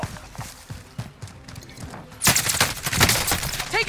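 Bursts of rapid video game gunfire, a dense fusillade that jumps sharply louder halfway through and keeps crackling to the end, close and busy.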